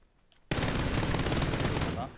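In the video game PUBG, after a brief quiet moment, rapid sustained machine-gun fire erupts, loud and continuous, then cuts off near the end.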